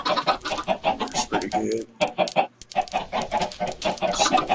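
Minecraft chickens on a chicken farm cluck steadily and fairly close, a dense run of fowl calls with someone talking over them.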